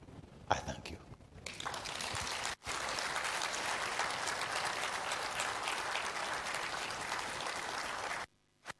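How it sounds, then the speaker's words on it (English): An audience applauds after a speech, with dense, sustained clapping at moderate distance that briefly dips once and then continues steadily before stopping abruptly. "I think he deserves another round of applause"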